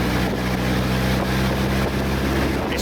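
A World War II Willys jeep engine drones steadily in a low, continuous rumble, building power slowly and evenly under wind noise with no talking.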